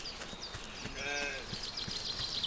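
A single sheep bleats in the video game Force of Nature, a short wavering cry over faint ambient game sounds and light footstep taps.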